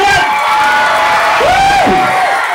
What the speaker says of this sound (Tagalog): Palakpakan naman po, sigawan!